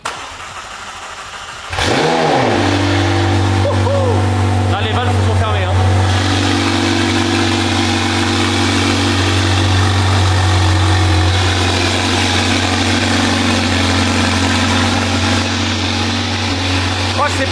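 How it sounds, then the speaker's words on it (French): A McLaren 720S engine with a newly fitted Armytrix exhaust cranks and fires up for the first time in a year, then settles into a loud, deep idle with occasional revs, with people talking over it. "Là on va la démarrer, ça y est, l'échappement il est installé les gars."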